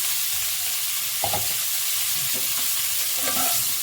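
Cauliflower and potatoes fry in a kadai for Bengali fish curry with a constant soft sizzle, broken by a few stirring scrapes and clinks, close by and without speech.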